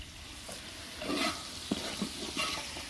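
Onions and chillies frying in oil in a home kitchen, a soft sizzle under several sharp scrapes and clinks of a spatula stirring the pan, fairly quiet and close.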